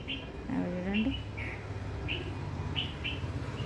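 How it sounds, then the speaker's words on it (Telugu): Small birds chirp in a tree, giving several brief, high, bright calls scattered over steady low background noise, with a voice speaking quietly underneath. "చిట్టి పిట్ట ఉంది చూడండి, ఆ చెట్టు మీద గుడి కట్టుకుంటున్నాయేమో"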